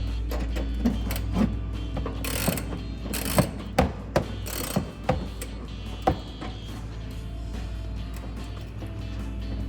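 Socket ratchet tightening a headlight bolt on a Silverado 2500, producing rapid clicking pawl ratchets with several sharper metallic clanks in the middle, close and alone over a low steady hum.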